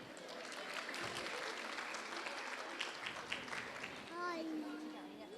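Faint applause from an audience cheering children at a devotional satsang gathering, a soft continuous patter of clapping with voices mixed in and a sung phrase near the end.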